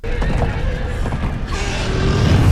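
A horse whinnies loudly in a shrill, wavering cry, with clattering and commotion around it.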